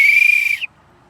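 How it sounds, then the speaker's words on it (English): A small whistle gives one loud, steady shrill blast lasting just over half a second, ending with a brief upward flick before silence. "I bought this little whistle."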